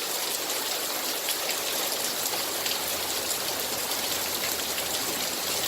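Heavy rain pours and runs off the body of a truck treated with ProtectAll, a steady dense hiss of water trickling and splashing with no voices.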